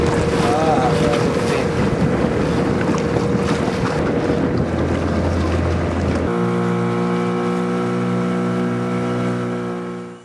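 A boat crosses open water from Funzi to the mainland village of Bodo, with a loud engine drone, wind buffeting the microphone and splashing water, then a steadier tonal engine hum near the end.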